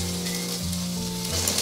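Shallots and aromatics sizzling in hot oil in a wok, a loud close hiss that stays steady for the brief moment, with a low hum underneath.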